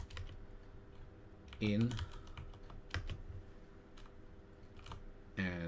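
Typing on a computer keyboard in bursts of quick clicky keystrokes, close and fairly soft, with a voice briefly speaking over it.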